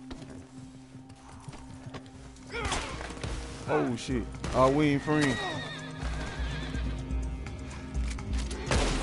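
Horse neighing and whinnying with clip-clop hooves in a video game, a loud whinny burst mid-clip over constant game ambience, with someone talking over it.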